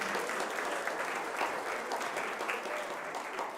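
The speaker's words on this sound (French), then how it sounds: "On peut l'applaudir." A church congregation applauds after a baptism, giving soft, fairly distant, even clapping from many people that holds steady throughout.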